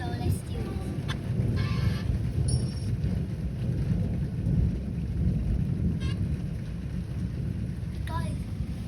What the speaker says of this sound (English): there's thunder and lightning here.